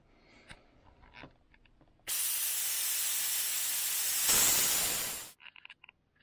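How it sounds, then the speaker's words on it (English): Nitrogen vents from the air suspension of a 2017–2022 Jeep Grand Cherokee in a loud, steady hiss lasting about three seconds before cutting off, close by, with faint handling noises before and after. "Anyway, here goes the nitrogen vent."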